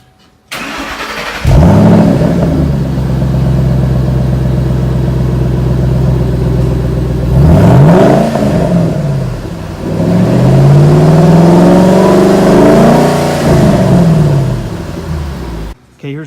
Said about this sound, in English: Got a before clip here of the factory exhaust.